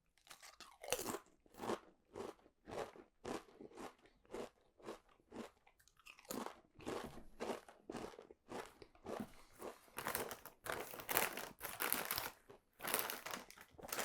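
Barbecue-flavoured Max crisps are crunched and chewed close up, with loud rhythmic crunching bites that quicken and grow denser toward the end.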